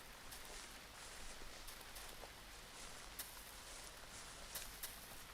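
Soft, steady rain patters across surfaces in a faint, continuous wash, with a few sharper drips standing out now and then.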